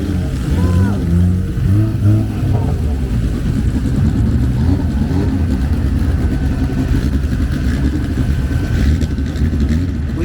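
A Jeep Trackhawk nitrous truck engine rumbles loud and close, throbbing and revving continuously, with voices in the background.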